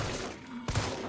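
A single sharp gunshot in Resident Evil 3, a brief loud crack over a rumbling game background, with no voices.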